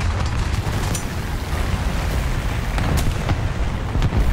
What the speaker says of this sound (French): On est sous feu d'artillerie, exposé comme jamais.